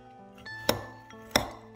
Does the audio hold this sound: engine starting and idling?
no